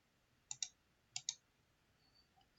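Two quick pairs of sharp computer mouse clicks while working in Revit, crisp and close in an otherwise quiet room, followed by a faint tick at the end.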